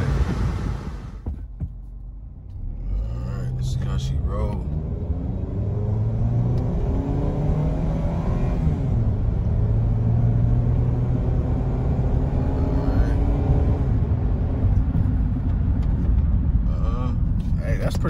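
A used car at a dealer-only auction runs with a steady low engine rumble through a test drive, the drone rising slightly as it goes, while someone talks over it throughout.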